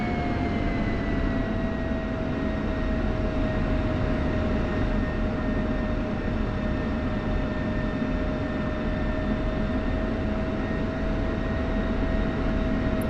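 A single F-16 jet in the DCS flight simulator spooling up on the runway for departure, with a steady loud engine roar and whining tones that sustain evenly throughout, no voices.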